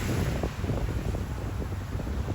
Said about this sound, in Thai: คลื่นลมแรงค่ะพี่น้อง